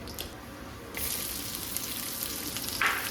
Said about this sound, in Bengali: তো এর মধ্যে দিয়ে দেব জিরে আর তেজপাতা